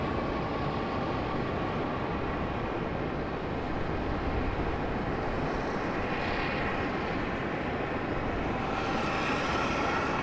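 A C-17 military aircraft makes its approach into RDU Raleigh-Durham International Airport, giving a continuous broad jet roar that holds steady throughout, with no voices.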